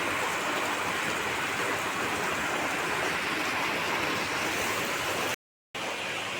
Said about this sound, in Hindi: देख सकते हैं बहुत ज़्यादा बारिश हो रही है।